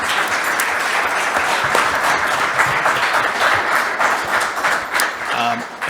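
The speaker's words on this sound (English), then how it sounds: "Please join me in giving a quick round of applause for our panel members." Audience applause for the members of a panel on emerging technologies in California, a steady dense round of clapping lasting several seconds before fading slightly at the end.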